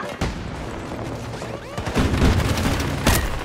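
Battlefield 2042 multiplayer combat crackles with bursts of gunfire and heavy booms, sparse at first, then denser and louder through the second half.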